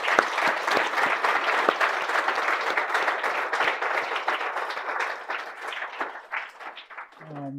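Sustained applause from a conference audience at an ABAP tech event, dense and lively for several seconds before tapering off, with a brief murmur of voice at the close.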